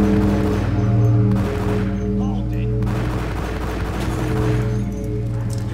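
Pistol gunfire in the Max Payne video game: repeated sharp shots crack over a steady, droning tonal music bed, with the blasts spread across the few seconds at a loud, close level.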